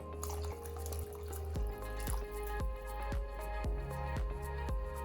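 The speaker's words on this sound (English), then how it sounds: "So I'm going to go ahead and add some water." Water runs steadily into a pot of rice close by, with a trickling, splashing stream and faint clinks throughout.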